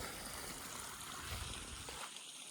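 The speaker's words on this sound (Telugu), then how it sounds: "సో వాటర్ అయితే పోస్తూనే ఉంది, ఇక్కడ పోస్తుంది, అక్కడ పోస్తుంది" Water pours and trickles steadily outdoors with a continuous soft rushing and gurgling, faint and even throughout, then thins out at the very end.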